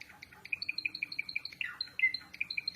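Java sparrows kept as cage birds give quick, high, metallic chirps in a rapid, regular series, with a brief trilled call midway, near and fairly soft.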